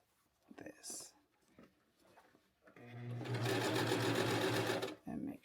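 A sewing machine stitches a waistband in a close, loud continuous run of about two seconds, preceded by soft whispered talk and handling noises.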